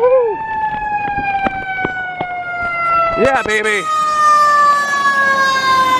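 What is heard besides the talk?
fire truck siren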